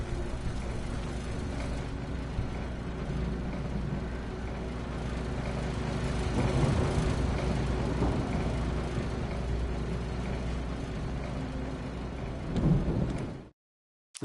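A thunderstorm rages in the horror game Alan Wake, heavy steady rain and a deep rolling rumble of thunder filling the scene for over ten seconds before cutting off abruptly, with no voices.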